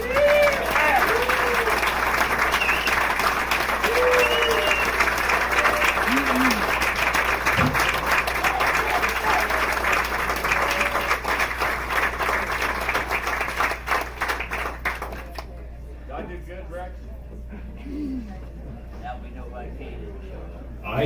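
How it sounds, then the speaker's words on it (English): At a 50th class reunion, a large audience bursts into sustained, dense applause that fades out gradually near the end, with crowd voices mixed through the clapping. "the second way is wild applause."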